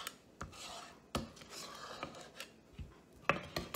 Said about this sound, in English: Just scrape the bowl down just a little bit.